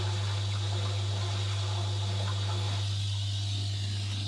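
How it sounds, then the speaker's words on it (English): Water bubbling somewhere below with the microphone lowered toward it during a tree team visit, a soft, murky gurgle under a strong steady low hum, fairly faint and continuous with no speech. "So it's bubbling."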